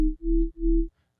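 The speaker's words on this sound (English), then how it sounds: "Just those two sine waves together sound so sick." Two layered sine wave oscillators on a synthesizer play a pure, loud bass-heavy tone in three sustained pulses separated by brief gaps, then stop.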